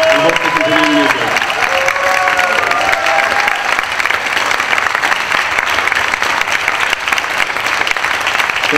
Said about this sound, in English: Let's one round of applause for the seniors.